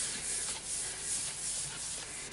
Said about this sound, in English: Starting to put some sanding sealant on it now